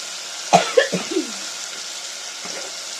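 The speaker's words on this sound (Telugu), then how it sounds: "పాపకు దగ్గు వస్తుంది పాపం" A small child coughs a few times in quick succession, then once more faintly, over a soft steady sizzling of tomatoes frying in a pan.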